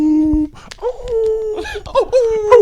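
Dogs howl close by and loudly, with long wavering cries that rise and bend, broken by short yelps and whimpers.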